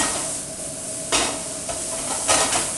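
Lamb sautéing in a hot pan, stirred with a wooden spoon, gives a steady close sizzle and hiss, with two louder bursts of crackling as the meat is moved.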